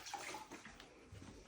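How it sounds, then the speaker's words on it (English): A sponge sloshes in a clean bucket of water during plastering cleanup, giving soft, quiet splashing and dripping in short bursts. "Get yourself a sponge, clean bucket of water."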